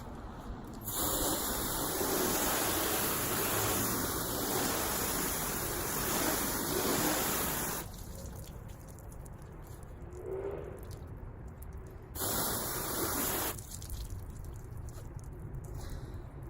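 A hose sprays water over a waxed car surface in long bursts, a loud hissing rush that stops around the middle, leaving quieter background noise, then returns briefly before stopping again.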